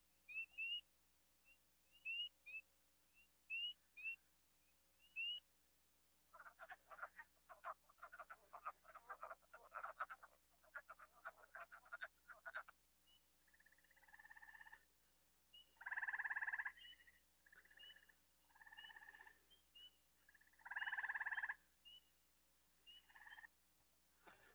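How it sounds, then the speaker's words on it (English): Spring frog song played back during an indoor talk: soft, distant chirps give way to a buzzing trill chorus, then repeated louder whistling calls with quiet gaps between. "I have some frog song for you because it's that time of year."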